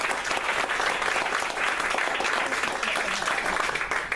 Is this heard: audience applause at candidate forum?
yes